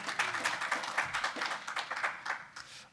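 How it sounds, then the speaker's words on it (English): Light applause rises from a small crowd at a Bitcoin event, scattered claps for a merchant, brief and fairly faint. "Round of applause for my merchant."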